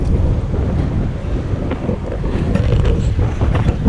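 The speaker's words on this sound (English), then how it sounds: "It's quite windy now, but it's not gusting" Steady strong wind roars across the microphone in a dense low rumble, with scattered sharper rattles and no talking.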